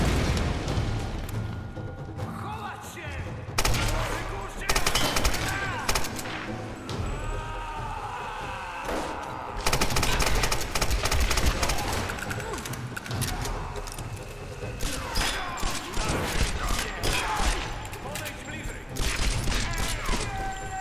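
Gunfire in the Tomb Raider video game, with repeated pistol shots and bursts in busy clusters over a dense game soundtrack, loud and spread across the whole stretch, with some talk mixed in.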